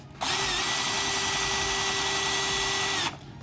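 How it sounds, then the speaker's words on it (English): A power drill spinning wire whirs at a steady high pitch for about three seconds, starting and stopping abruptly, close and fairly loud with no talking. "the drill I'm using right now"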